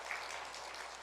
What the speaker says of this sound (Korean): 박수 안 치실 줄 알았는데 치워주셔서 감사하고요